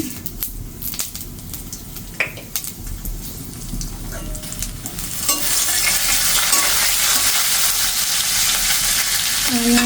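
Panch phoron and cumin fry in hot oil, starting with scattered crackles and spoon scrapes before a loud, continuous sizzle swells up partway through and keeps going.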